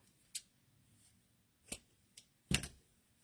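A piece of fairy silk being cut in half with scissors, a few sparse, close snips separated by near silence, the last pair louder and crisper.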